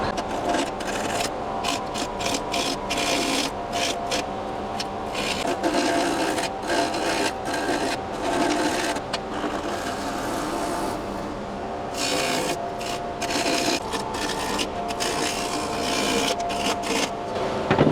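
A wood lathe spinning a rice bowl blank at about 1200 rpm, a steady dense rasping hum with repeated sharp scraping bursts as the tool cuts, loud and close throughout.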